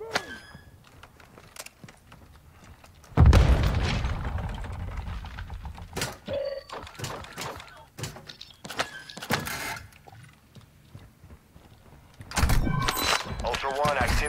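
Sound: grenade explosion in video game Modern Warfare DMZ

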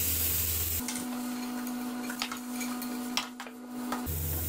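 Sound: tomatoes added to frying pan for sandwich filling

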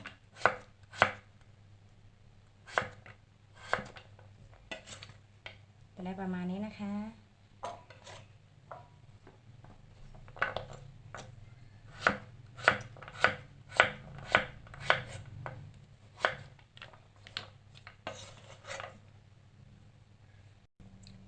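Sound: chopping pumpkin into small pieces

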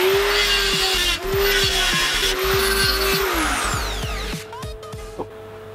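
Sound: die grinder elongating holes in metal

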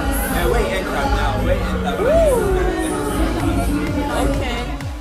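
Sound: crowd chatter at fashion week show

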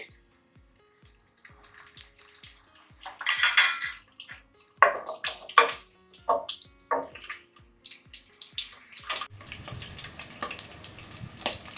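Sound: frying cut eggs in masala in a pan

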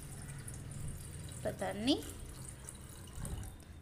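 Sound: water poured into a pot on the stove

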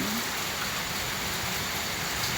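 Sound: rain at night

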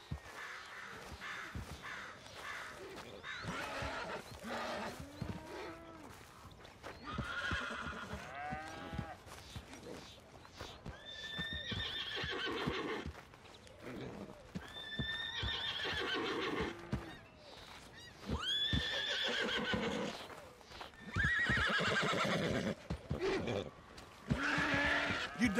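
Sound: horse neighing and hooves clip-clopping in Red Dead Redemption 2 video game

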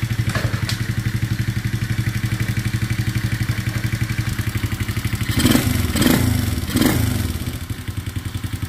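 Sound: small 110cc ATV engine running

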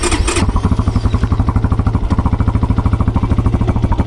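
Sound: motorcycle engine starting

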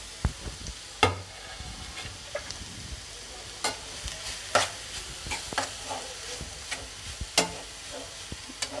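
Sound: grated carrot being stir-fried in a pan for halwa

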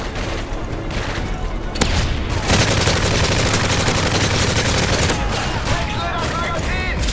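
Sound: gunfire in the video game Call of Duty MW3

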